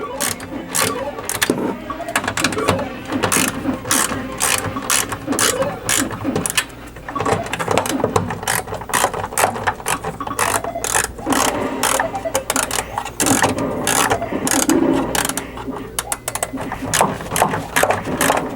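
A ratchet snugging nuts onto carriage bolts inside a Pac-Man Cabaret arcade cabinet, rapid clicking bursts repeated over and over at close range, loud and continuous with short pauses.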